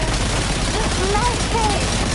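Rapid gunfire in the video game Death Stranding 2, a dense continuous fusillade of shots over loud game ambience with a faint voice in the mix.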